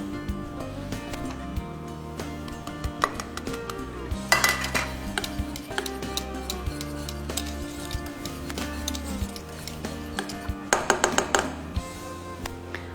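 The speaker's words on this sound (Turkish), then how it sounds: "Vanilyayı en son ekleyip karıştıracağım." A spoon stirs freshly cooked vanilla pudding in a pot just taken off the stove, giving soft scraping and occasional clinks against the metal over steady background music.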